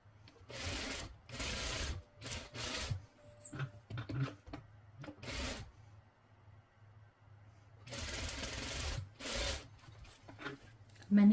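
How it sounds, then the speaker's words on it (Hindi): A sewing machine stitches the shoulder seams of a kurti made from a dupatta, running in quiet bursts of rapid stitching separated by pauses in a hushed room. "मैंने ये सीधी तरफ सिलाई लगा ली है"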